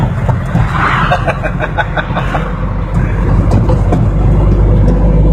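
Diesel engine of a 2000 Iveco pickup truck runs steadily, a loud, continuous low rumble with rattling harmonics throughout, no speech over it.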